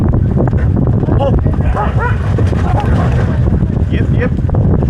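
Sled dogs on a Juneau, Alaska excursion bark in scattered yelps amid heavy wind buffeting the microphone, the barks close but partly masked by constant rumbling noise, with someone talking over them.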